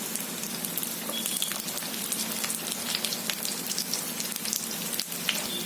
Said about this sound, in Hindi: मध्य फ्लेम पर इसे फ्राई होने देंगे